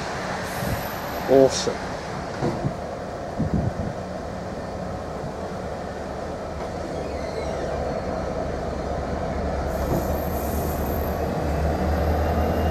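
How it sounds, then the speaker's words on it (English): A GB Railfreight converted Class 69 diesel locomotive pulls into Ely station with a steady low rumble and a sustained engine drone that builds near the end, and a person speaks a brief word early on. "Coming in now is one of GB Railfreight's converted Class 69 locomotives."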